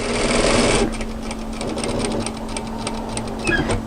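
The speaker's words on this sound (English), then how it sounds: "we're going to sew all the way to the other edge, stopping 1 centimeter" A sewing machine runs steadily, stitching a seam on a resort kimono kaftan, with a fast even needle rhythm that slows near the end, close and loud with no talk.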